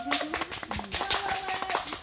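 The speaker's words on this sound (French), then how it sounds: "on peut l'applaudir quand même" A small audience at a storytelling show claps, sparse scattered handclaps with faint voices and tonal sounds underneath.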